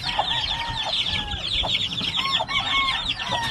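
Hens with young hatchlings on a Hawaii gamefowl farm cluck and chirp steadily, with thin high peeps and short clucks repeating throughout over a low background rumble.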